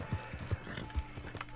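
A horse's hooves clip-clop in Red Dead Redemption 2 at a stable and blacksmith in Blackwater, a few soft, evenly spaced thuds at a walking pace, faint and close.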